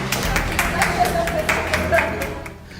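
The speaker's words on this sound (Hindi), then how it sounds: "तालियों की गड़गड़ाहट से छात्रों का स्वागत।" Students welcomed back to school with clapping, a cluster of distinct sharp claps from a small group over a voice speaking, fading out toward the end.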